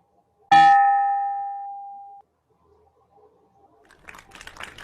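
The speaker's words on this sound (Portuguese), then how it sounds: "Agora eu peço, por gentileza, que toque o sino para que a gente possa encerrar essa reunião da data de hoje." A hand bell rung once to close a condominium meeting, a sharp bright strike followed by a long ringing tone that slowly fades over about two seconds, then quiet and faint murmuring or rustling from the room.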